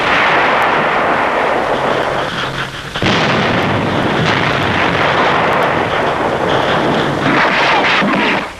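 Heavy WWII artillery shelling near Naha, Okinawa, booms in dense, continuous blasts and rumbling, loud and close, with a sharp fresh burst partway through and wind-like roar throughout.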